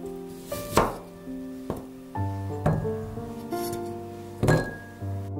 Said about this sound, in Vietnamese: Tiếp theo thì mình cắt hành tím và gừng để cho vào nước luộc thịt